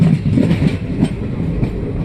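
A train at the Pagidirayi railway station rumbles loudly and close by, its heavy wheels clattering in an uneven rhythm over the rails.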